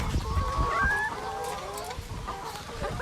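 Several chickens cluck in a continuous overlapping chorus at a poultry farm where egg-laying hens are kept, with brief higher squawks cutting through the steady murmur of the flock.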